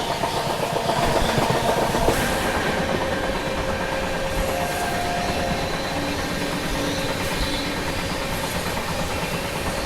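Goa Rajdhani Express passing the Intercity train on a station loop, heard from inside the coach as a loud continuous rumble with rolling wheel clatter and a faint high whine, steady throughout with no talk.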